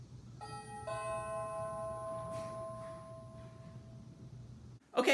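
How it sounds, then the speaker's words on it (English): A soft multi-tone Ring doorbell chime rings indoors, its tones sustaining and fading over a few seconds, followed by a short burst of noise at the end. "see if it creates the doorbell sound on the inside"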